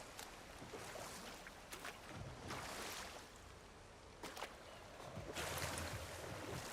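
Rushing water and waterfalls in God of War Ragnarök, a steady broadband wash of water with occasional louder splashing surges, fairly close and with no talk.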